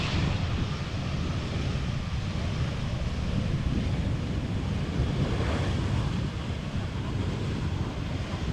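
An EasyJet Airbus A320 arriving from Edinburgh at Amsterdam Schiphol, a steady broadband jet roar with heavy wind rumble, loud and constant throughout with no voices.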